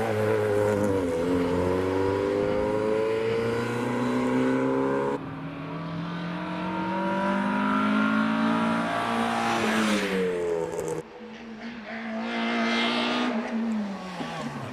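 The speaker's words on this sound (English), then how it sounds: "he's followed by Sebastian Cartwright in a fixed head Mazda MX-5." A fixed-head Mazda MX-5 race car accelerates up the Prescott hillclimb, its engine revving up through several gears with clear shift breaks, close and loud before fading, under a commentator's voice.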